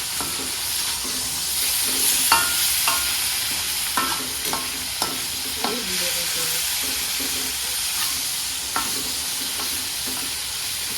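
Food fries in a hot pan in a home kitchen, a constant sizzling hiss broken by clinking scrapes of a utensil stirring, with a few faint voices in the background.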